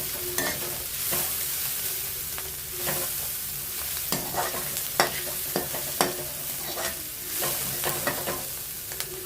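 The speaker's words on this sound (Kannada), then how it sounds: "ಇವಾಗ ಇಟ್ಟು ಬೇಯಿಸಿಟ್ಕೊಂಡಿರೋ ತೊಂಡೆಕಾಯಿನ ಹಾಕ್ತಾ ಇದ್ದೀನಿ." Pre-cooked ivy gourd pieces tossed into a hot pan for a quick dry stir-fry, hissing with steady sizzling under repeated scraping stirs and clacks of the spoon, close and loud with no talking.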